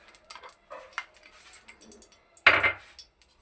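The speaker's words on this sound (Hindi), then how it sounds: "तो हम क्या करते हैं, कढ़ाई चढ़ा देते हैं।" A metal kadhai wok set down on a kitchen stove, a sharp clanking knock after some lighter scattered clinks and rattles, close and alone without talk.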